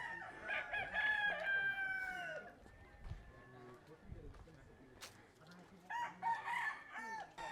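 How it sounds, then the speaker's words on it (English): Roosters crow in a traditional village in Bali, several loud, drawn-out calls near the start and again near the end, with quieter clucks and background voices in between. "Definitely a lot of roosters here."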